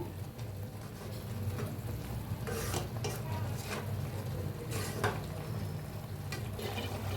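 Carrot halwa with milk being stirred in a pot, a steady wet scraping and churning close by with occasional brighter spoon scrapes against the metal, no talking.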